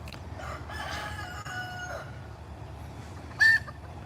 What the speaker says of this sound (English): Uh-oh, hen's upset.